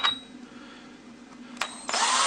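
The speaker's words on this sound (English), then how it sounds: "So we're just going to slowly and carefully drill that out." A power drill boring a hole sized for an 8 mm magnet whirs in short bursts, then a loud, sustained grinding run takes over at the end.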